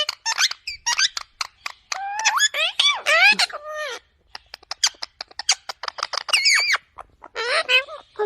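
A pet parrot chatters, squeaks and whistles in quick bursts of mimicked speech-like sounds, close and loud, with a person talking softly in between.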